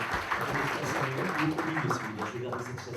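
An audience at a MEDEF business event applauds invited guests, a dense wash of clapping sustained for the whole moment with a voice speaking over it.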